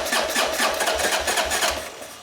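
A small engine runs steadily close by, its exhaust pulsing in an even, throbbing idle rhythm throughout, loud and alone without any voices.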